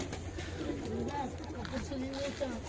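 Pigeons, including an old-line male, coo in soft repeated low warbles, close by, while people talk over them.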